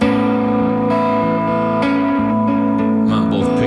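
A distorted electric guitar played through an SSL SiX signal chain rings out sustained, crunchy chords at a loud level, the gritty tone holding steady with a few changes in the notes.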